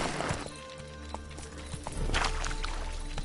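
Roach the horse trotting in The Witcher 3, clear rhythmic hoof clip-clops at a steady pace, close and moderately loud over low game ambience.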